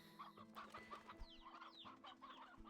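Chickens cluck repeatedly in the video game Slime Rancher 2, a steady overlapping flock chatter with scattered sharper calls over a constant low hum, and no talking.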